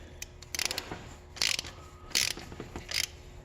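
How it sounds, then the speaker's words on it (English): A hand ratchet tightening an oil pressure sensor on a 2007 Chevy Impala SS with a 5.3L engine, giving several short bursts of crisp clicking separated by pauses. "Once he starts feeling resistance, use your ratchet."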